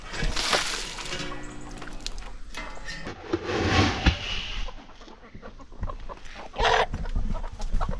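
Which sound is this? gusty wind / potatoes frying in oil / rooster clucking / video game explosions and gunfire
rooster clucking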